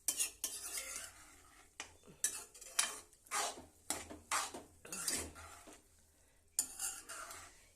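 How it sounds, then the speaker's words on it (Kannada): Vermicelli (shavige) is stirred in a pan on a low flame, with repeated scraping and clinking of a utensil against the metal in short irregular bursts over a faint sizzle, close and quiet. "ಶಾವಿಗೆನ ಮಿಕ್ಸ್ ಮಾಡಬೇಕು"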